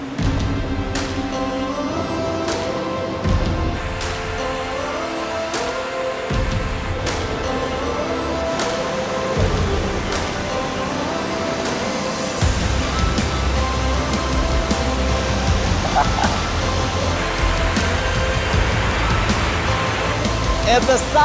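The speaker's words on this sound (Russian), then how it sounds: "каждую секунду с высоты падает 700 тысяч литров воды" The Rhine Falls roar as a huge volume of water pours down, a constant heavy rushing wash heard at length, with a person speaking over it and some intermittent clicks and knocks.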